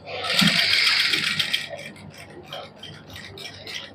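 A sewing machine runs in a fast, steady whir as it stitches a fabric strip onto a garment neckline at a boutique, loud at first and then easing into softer, intermittent bursts.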